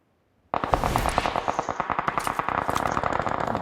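Automatic gunfire in the PUBG video game opens abruptly after a short silence, then continues as a loud, rapid, evenly spaced stream of shots with a slight echo.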